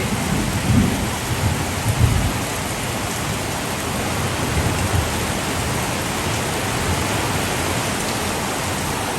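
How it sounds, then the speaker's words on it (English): Heavy rainstorm with dense, steady downpour roaring close by, occasional low rumbles mixed in, continuous and loud throughout with no talking. "it's been raining literally probably 6 or 7 minutes"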